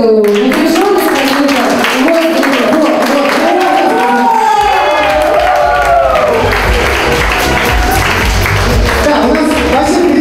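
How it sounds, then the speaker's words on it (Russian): An audience at a dance studio event claps steadily for about ten seconds, a dense, continuous patter with voices and some cheering mixed in over it. "давайте похлопаем, снимем вот эту напряженность"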